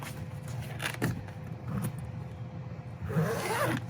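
Seat cover zipper on a 2025 Toyota 4Runner, pulled in a few quick scratchy runs over a low car-interior hum, close and fairly loud with no talking.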